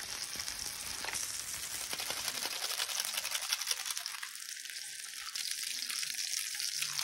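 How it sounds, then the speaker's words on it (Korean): Pork belly and rice stir-frying on a camping grill outdoors, a steady close sizzle with scraping stirs, fading quieter partway through. "아 바로 볶을 거네."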